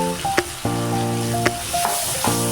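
Tomato paste fries with spice paste in a pan for a vegetarian papaya and potato curry, giving a steady close sizzle broken by a few sharp clacks of stirring.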